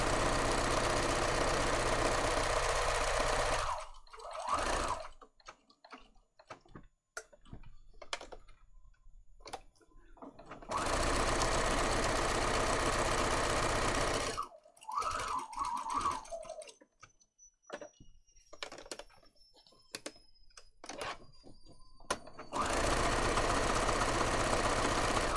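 A sewing machine runs in three loud bursts of rapid stitching, each a few seconds long, with quiet gaps between them holding small clicks and handling noises.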